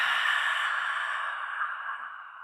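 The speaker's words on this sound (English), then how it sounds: "take 3 releasing breaths in through the nose and out through the mouth" A single long releasing breath, drawn through the nose and let out through the mouth as a soft audible sigh of airy rushing that fades gradually, close and alone in a quiet seated mindful-flow setting.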